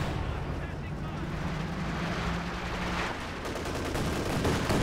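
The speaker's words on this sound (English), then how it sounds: "We got the howitzer firing in as well" Howitzer artillery firing in the Company of Heroes 2 strategy game, dense rumbling booms and battle noise rolling continuously throughout, with a commentator talking over it.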